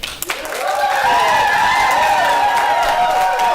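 Audience in a county board of supervisors meeting room breaking into sustained applause and cheering, a dense steady wash of clapping from many people rising quickly and holding for several seconds.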